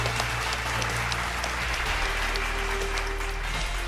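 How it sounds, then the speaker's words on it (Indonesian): An audience at a ceremony gives continuous, dense applause with a low steady hum underneath. "Kita berikan tepuk tangan yang paling meriah"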